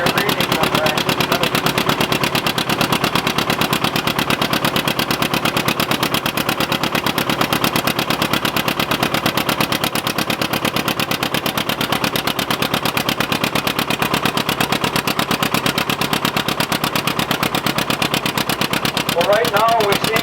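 A John Deere R tractor engine runs on a prony brake dynamometer at full load, its rapid, even exhaust beat pounding loud and steady throughout, with a brief voice near the end.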